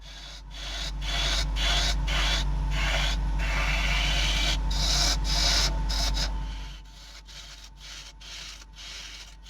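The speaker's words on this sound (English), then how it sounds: "I'm still using the 1/2 inch spindle gouge here because it's a nice robust tool and it's quite handy for doing pull cuts" A half-inch spindle gouge makes pull cuts on a natural-edge beech bowl turning on a wood lathe, a loud rough rasping and scraping over a low motor hum that fades near the end.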